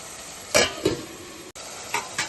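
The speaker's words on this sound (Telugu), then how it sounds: "4 టమాటాలు ముక్కలు వేసుకుని వేసుకోవాలి. ఇవి కూడా 2 నిమిషాల నూనెలో వేసుకోవాలి." Chopped tomato pieces go into hot oil in a pan, giving a few short sizzling bursts and stirring scrapes close up, with quiet gaps between them.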